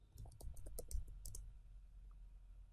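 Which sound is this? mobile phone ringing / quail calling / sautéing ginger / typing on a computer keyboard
typing on a computer keyboard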